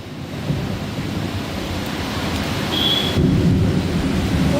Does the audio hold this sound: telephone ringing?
no